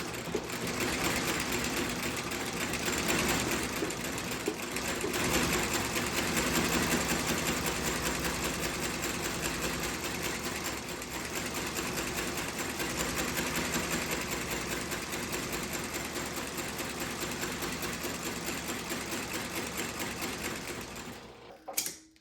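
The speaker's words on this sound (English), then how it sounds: "I freaking love this machine, man. Sews freaking phenomenally." An old, heavy outsole stitching machine sews white thread through a boot's welt and sole, a steady, loud, continuous mechanical clatter with rapid repeating stitch strokes, running alone without talk for about twenty seconds before stopping abruptly.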